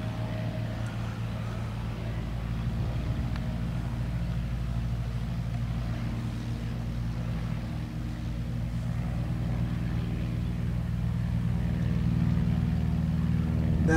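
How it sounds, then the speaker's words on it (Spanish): A small propeller plane passes near a hotel, its low steady engine drone heard at a distance and swelling slightly over the stretch, with no voices. "Ahí va a pasar. Ahí se fue. Ahí va una avioneta."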